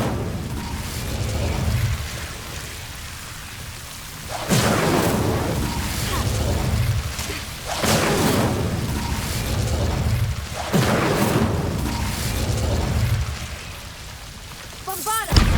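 Incendio fire spell blasts from the Hogwarts Legacy video game, a series of loud roaring bursts with crackling tails repeating every few seconds over a dense, noisy rumbling bed.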